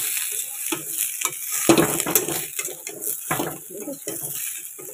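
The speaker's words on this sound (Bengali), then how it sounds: "এবারে আলুগুলো দিয়ে দেবো। দিয়ে ভালো করে কষিয়ে নিলাম।" Potatoes are stir-fried in a pan, giving a constant hiss of sizzling with occasional stirring scrapes, heard under ongoing speech.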